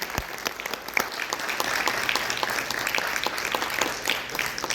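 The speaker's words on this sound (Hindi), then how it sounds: "आदित्य भारती ने, डायरेक्टर ब्रिज मोहन जी ने, उनके लिए जोरदार ताली" A theatre audience applauds at a staged tribute to the Urdu poet Mirza Ghalib, a steady moderate ovation of many hands clapping that holds for several seconds without talk.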